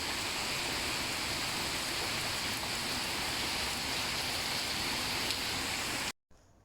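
Heavy rain pours down in a steady, even roar during a midday downpour, constant for about six seconds before cutting off abruptly.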